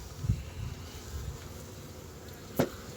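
Honeybees drone softly around an opened hive during a spring check, a faint, close buzzing with a couple of brief louder bumps and knocks.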